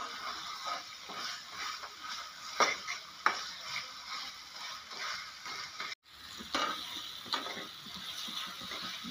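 Ingredients for a coriander chutney fry gently in a pan, with a quiet steady hiss and scattered stirring clicks, briefly cut off partway through.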